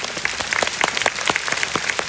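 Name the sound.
audience applause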